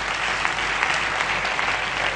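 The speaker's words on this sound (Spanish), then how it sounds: "Che, aplaudí fuerte, aplaudí fuerte." Church congregation applauding loudly, a steady, dense wash of clapping throughout with little else beneath it.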